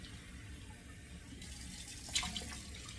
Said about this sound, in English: let me splash 2 splashes of nice, brisk, cold water